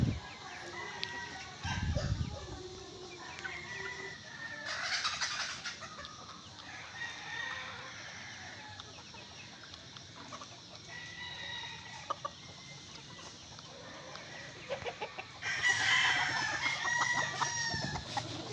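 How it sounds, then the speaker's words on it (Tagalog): Gamecocks clucking around a farmyard, with a rooster's crow rising out of the steady background chatter of the flock. "So ito yung mga manok ko mga ka-farmers."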